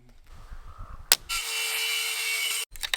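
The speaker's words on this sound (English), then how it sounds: "getting the OSB measured and cut for the floor of the loft" Power saw cutting OSB sheet for the loft floor of a duck coop: a short clack, then one loud, steady whining cut lasting about a second and a half, stopping abruptly, with a few knocks after.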